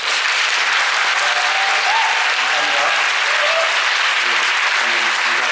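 Steady, dense applause from a musical theatre audience at a curtain-call stage greeting, continuous for several seconds without a break, with faint voices and tones murmuring underneath.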